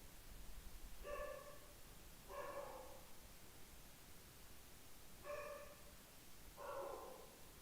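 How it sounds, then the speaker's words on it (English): A dog barks four times in pairs, faint and somewhat distant, over a steady hiss of room noise. "if you can hear the annoying dog"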